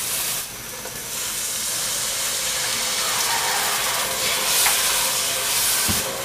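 A splash of water hits dry turmeric and coriander powder frying in a pan, giving a sustained loud hiss and sizzle that holds for several seconds.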